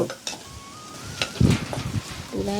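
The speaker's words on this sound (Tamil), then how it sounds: "மரா மாசி அந்த கருவேப்பில்லு எல்லாம் போட்டு திரும்ப பொரிக்கிறேன்." Maldive fish and curry leaves frying in a pan for a sambol, with brief sizzling bursts and scattered utensil clinks against the pan, heard without speech.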